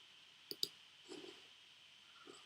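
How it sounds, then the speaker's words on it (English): Two quick, sharp computer mouse clicks close together, crisp and fairly near, over a faint steady hum, followed by a few soft rustling sounds. "so you just click on buy."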